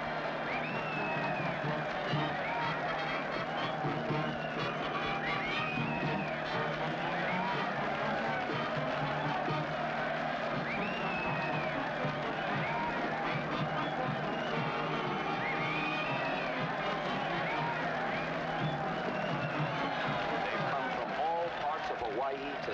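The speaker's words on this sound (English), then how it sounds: "And look at that mob waving and cheering." Large crowd cheering and waving for long-lost castaways returning to a Hawaiian welcome, a steady roar of voices with a narrator talking over it throughout.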